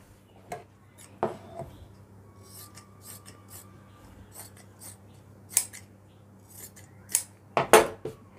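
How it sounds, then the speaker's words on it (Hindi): Scissors snip through a doubled layer of cloth while cutting a gusset piece, a few separate crisp metallic cuts and slides spaced out over quiet, close by, with the sharpest snips near the end. "ये देखिए बहुत आसानी से दोस्तों म्यानी काट लिए"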